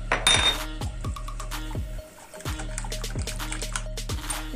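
Cake batter being stirred in a metal pot, a spoon scraping and clinking against the sides in a steady repeating rhythm, close and fairly loud, with a brief pause partway through.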